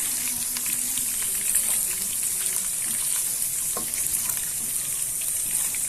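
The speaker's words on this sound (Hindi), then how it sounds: "ये हरी मिर्च, इनको भी इसके साथ फ्राई कर लें" Green chillies frying in a karahi alongside chicken for a dhaba-style highway leg karahi, a steady close, loud sizzle with bright crackling and hiss running throughout, with no talk.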